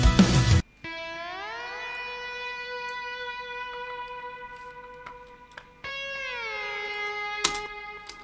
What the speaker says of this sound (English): we added some slide guitars just to give it a little bit more vibe